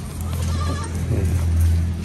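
A goat bleats faintly in a farmyard where it has just been milked, against a steady low hum and background noise, with no speech.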